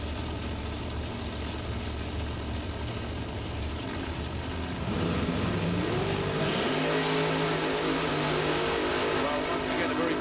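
A drag race launch in Super Pro eliminations: one of the cars is a blown big block Chevy. Engines idle low, then roar up in a loud rising rev that holds strong to the end, with faint crowd noise beneath.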